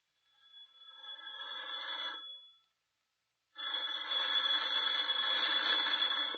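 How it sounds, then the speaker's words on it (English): A telephone rings twice in a radio drama scene, each ring a sustained bright electric bell lasting a couple of seconds, separated by a short silence, loud and close with no voices over it. "Your phone's ringing, Maley."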